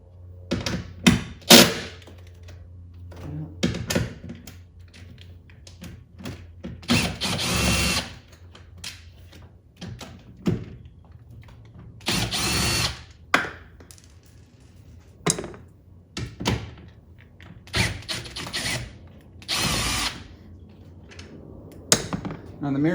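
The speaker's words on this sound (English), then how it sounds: "All right, so got the 10mm drill." Short bursts of a power drill with a 10mm socket remove the mirror bolts on a Tesla Model 3, with whirring runs, ratcheting clicks and clunks separated by pauses, close up.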